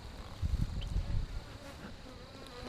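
Honey bees buzz around an opened hive holding five frames of bees, a close, steady insect drone swelling louder for a moment and then settling into a softer hum.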